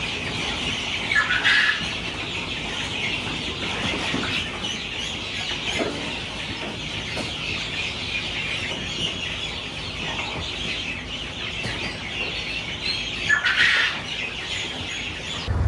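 A flock of ducks and other poultry cluck and call steadily at close range, with a few louder squawks rising above the continuous din.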